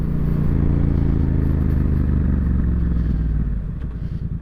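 A Yamaha MT-07 A2 twin-cylinder motorcycle engine pulls hard under load, a loud, close, steady throbbing drone with clear harmonic tones that eases off in its last second.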